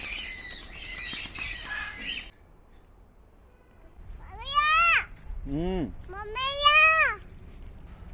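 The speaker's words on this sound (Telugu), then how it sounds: "ఇందులో బర్డ్స్ ఉన్నాయి చూద్దాం" Harsh bird squawks ring out in bursts, a cluster early on and several loud, near calls later, separated by quiet pauses.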